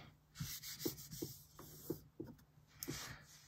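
A transferred paper image is rubbed down by hand in a series of short, soft scrubbing strokes, close and fairly quiet, with no talking.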